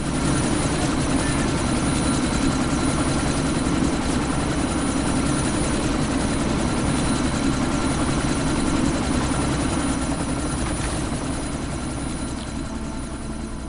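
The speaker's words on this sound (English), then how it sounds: "That chopper's about to take off." Steady, loud helicopter engine idling in the video game Deus Ex Mankind Divided, a continuous low throb with rotor chop and a faint high whine, easing slightly toward the end.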